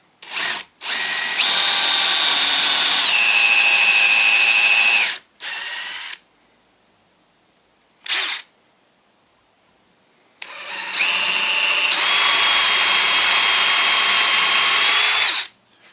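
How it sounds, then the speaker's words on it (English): A power drill whines loudly through wood in long bursts, stopping and restarting with short blips between, close up and without talk. "So I'm going to use that to drill the hole."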